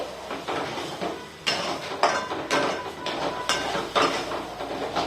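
Moong dal halwa being stirred and sautéed in a pan, a spoon scraping and knocking against the metal in repeated strokes, fairly close and steady with no voices.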